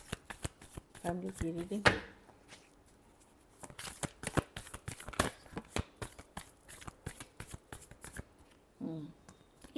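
Tarot cards are shuffled during an Aquarius weekly reading, giving a close, crisp run of riffling flicks and slaps that repeat across most of the stretch while someone talks in Hindi at the start and near the end.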